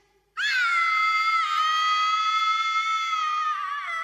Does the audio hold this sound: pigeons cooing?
no